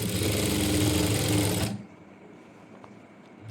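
Close, loud whirring of a sewing machine stitching along the edge of kurti fabric, running steadily for under two seconds before cutting off into quiet room tone.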